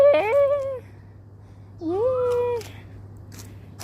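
A cat meows twice, close and clear, each call a drawn-out rising-falling cry separated by a short pause, with a low steady hum behind.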